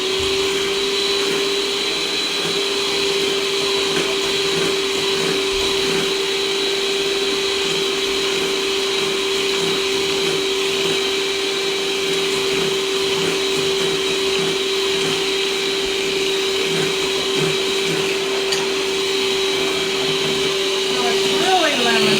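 Electric hand mixer beating sugar into brownie batter for apple walnut brownies, a steady loud whirring motor hum running continuously throughout with a constant pitch.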